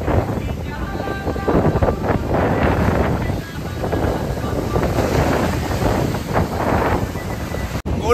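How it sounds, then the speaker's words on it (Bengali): Rough sea at night on Mousuni Island, a continuous wash of surf and heavy wind buffeting the microphone, loud and unbroken with no talk. "আর রাতে সমুদ্র তখন উত্তাল"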